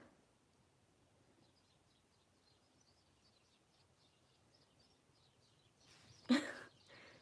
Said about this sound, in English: There's like a ton of birds in the bush in front of my window right now.